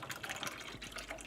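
A faint, continuous splashing of beer being poured into a pan on a stove, quiet and steady with small bubbly fluctuations.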